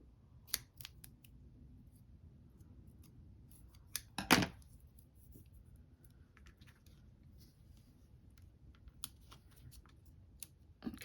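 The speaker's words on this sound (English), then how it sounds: "I gotta trim a little bit of that off." Scissors trimming paper for a handmade card in a quiet room, giving a few sparse snips with one sharper, louder cut near the middle, close by.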